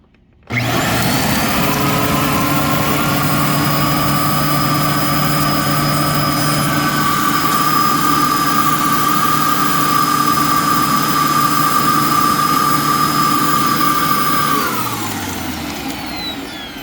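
A Dyson DC07 upright vacuum cleaner starts up and runs with a loud, steady motor whine and airflow roar for about fourteen seconds, then begins to wind down near the end, with no talking over it.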